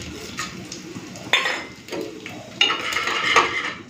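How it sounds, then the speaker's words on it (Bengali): Whole spices (garam masala, cumin seeds and bay leaves) fry in hot mustard oil with sugar, giving a soft sizzle broken by a few sharp metallic clinks of a utensil stirring the pan. "ফোড়নটা ভাজা ভাজা হয়ে গেছে"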